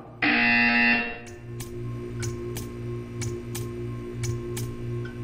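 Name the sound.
buzzer sound in Portal 2 video game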